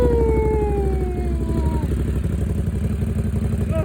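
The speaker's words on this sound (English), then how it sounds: "this exhaust sound amazing" Motorcycle engine started and revved through its exhaust, a loud steady rumble with falling pitch sweeps early on, then continuous close engine roar.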